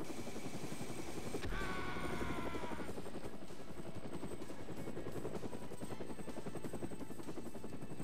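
A helicopter in the PC video game James Bond 007: NightFire, its rotor thumping steadily throughout, loud and continuous, with a brief higher whine near the start.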